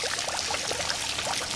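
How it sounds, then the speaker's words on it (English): Boiling water poured from a kettle over 4 ounces of dried noodles in a bowl, a steady close hiss and splash of liquid running for the whole moment without pause. "what I'm going to do is pour boiling water over them."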